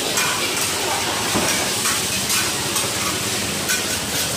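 Oyster omelette frying in a big pan at a Lamphun night market stall, a steady loud sizzle and hiss of hot oil with faint stirring under it.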